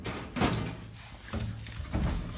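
Drawers in a garage being pushed shut, two or three dull sliding thuds spaced about a second apart, close and moderately loud.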